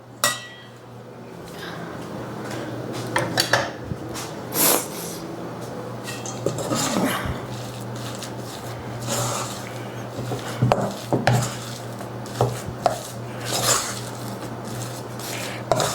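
A spoon working tomato or spinach vegetable-powder gnocchi dough with flour in a bowl, giving repeated soft scrapes, taps and clinks against the dish at an uneven pace, close and fairly quiet over a steady background hum.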